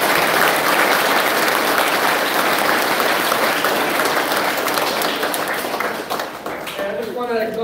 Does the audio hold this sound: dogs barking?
no